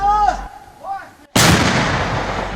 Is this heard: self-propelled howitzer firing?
yes